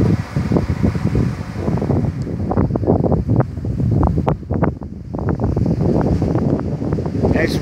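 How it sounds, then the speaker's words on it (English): Ocean waves roll in on a windy Spanish beach used for kite surfing and windsurfing, with steady surf wash and loud wind buffeting the microphone throughout, no voices. "nice waves coming in."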